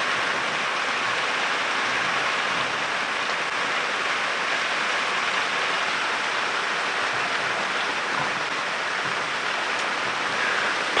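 Heavy rain and gusting wind sweep through the bush on a sunrise safari drive, a dense, steady roar of downpour that stays constant and close throughout with no voices.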